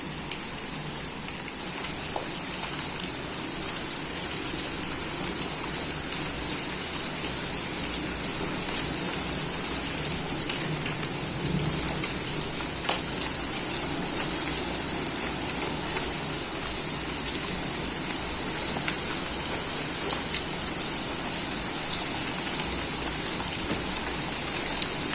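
Hailstones and rain pelt a village, a loud unbroken hiss of falling water and ice with scattered sharper impacts throughout and a faint rumble beneath.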